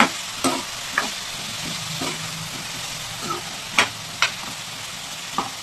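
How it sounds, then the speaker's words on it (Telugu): Raw plantain slices frying in hot oil with salt, a continuous soft sizzle broken by several sharp clinks and scrapes of stirring, close and without talk. "సాల్ట్ మాత్రమే వేసి బాగా క్రిస్పీగా ఫ్రై అయ్యేలాగా చేసుకోవాలి"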